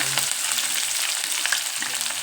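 Chillies and onion fry in hot oil for North Karnataka uppittu, a brief, steady, close sizzling hiss with light stirring.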